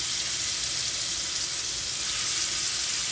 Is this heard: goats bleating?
no